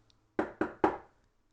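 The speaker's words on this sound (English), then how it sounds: "Suddenly, a loud knock is heard on the door." Three loud, sharp knocks land on a door in quick succession, close by, with quiet before and after.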